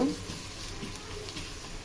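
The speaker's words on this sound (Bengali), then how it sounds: "ভালো করে পেঁয়াজগুলো একটু কষিয়ে নেব, ভাজা ভাজা করব" Onions frying in a pan with chili and salt, a steady low sizzle running evenly throughout.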